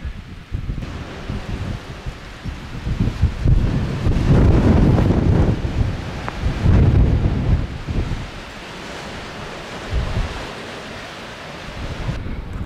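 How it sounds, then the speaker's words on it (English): Strong, brutal wind buffets the microphone on an exposed canyon trail above Oregon's John Day River, roaring in loud, rumbling gusts that swell and ease throughout with no voices. "this wind's brutal."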